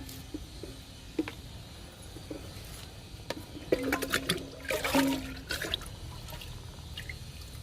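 Liquid plant fertilizer pours onto tomato and leafy green plants in a garden, giving a few quiet splashing, trickling bursts that swell briefly in the middle, with no talking.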